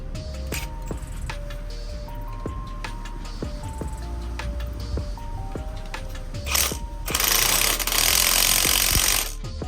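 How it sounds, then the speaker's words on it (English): Hand ratchet compressing Toyota 4Runner front coil springs during a Bilstein 5100 lift install, a rapid clicking series of close, sharp ticks in bursts, with a louder harsher burst near the end. "So now I'm gonna start compressing these springs. All right, so you can do this manually with a ratchet."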